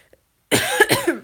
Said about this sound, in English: And I've got a cough from being there all day.